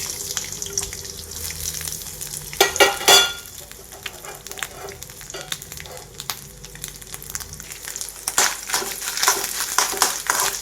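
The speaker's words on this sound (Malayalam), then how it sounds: "ഇതിലേക്ക് തേങ്ങ കൊത്തിട്ടെടുക്കാം." Chopped coconut pieces fry in ghee in a pan, giving a steady sizzle and crackle broken by occasional scraping and clattering stirs.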